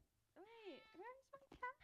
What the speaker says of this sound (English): Oh, that was a cat.